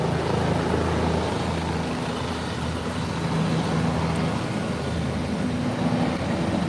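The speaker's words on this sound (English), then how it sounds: "here's another chopper coming in, and there's a chopper going out and a chopper coming in" Helicopters flying over the East River in New York City, a steady distant rotor and engine drone blended with city traffic rumble, continuous and fairly loud.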